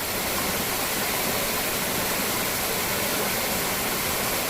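Water pours and rushes steadily at the Jalatunda spring bathing place, a dense, continuous hiss that stays loud and unchanging throughout.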